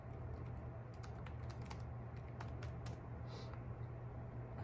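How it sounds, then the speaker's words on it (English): Calculator buttons pressed in a quick series of light, clicky taps, faint and close over a steady low background hum, with no talk. "If I were to punch that in my calculator"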